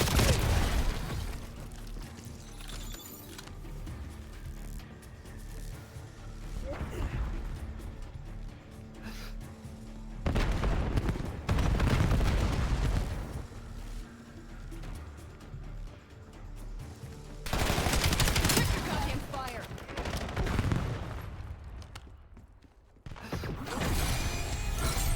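Video game gunfire with a sniper in play, heavy booming shots and explosive bursts rising repeatedly over a dense, loud battle din.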